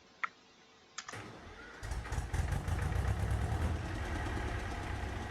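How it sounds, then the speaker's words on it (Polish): Engine starts after a couple of sharp clicks, then settles into a steady, rhythmic running note that stays close and fairly loud to the end. "Posłuchajcie tego rytmu silnika."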